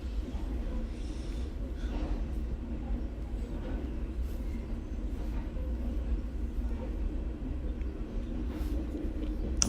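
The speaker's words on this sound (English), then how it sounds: "And of course you get a train going by." A train rumbles past at a distance in a Sims 4 game scene, a low continuous rolling drone with faint clatter, fairly quiet and steady throughout with no talking.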